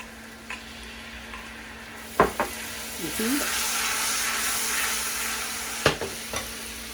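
Vegetables cook with salsa in a hot pan, giving a steady sizzle and frying hiss with a few sharp utensil taps and stirring scrapes, close up.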